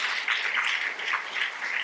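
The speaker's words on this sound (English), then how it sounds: "Let's give them a big applause" Audience applause at a Jewish radical feminism book panel, a steady wash of many hands clapping that holds at even volume throughout, with no speech over it.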